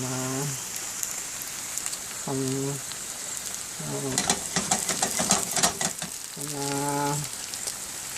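Hash browns crackle and sizzle in a frying pan, a steady spitting hiss that swells in the middle, while someone speaks in short bursts over the cooking.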